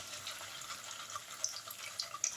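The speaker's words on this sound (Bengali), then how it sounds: "এবার আমি আর একটা কাটলেট ছেড়ে দিচ্ছি।" A suji (semolina) cutlet fries in hot oil, making a faint, steady high hiss dotted with small crackles and pops.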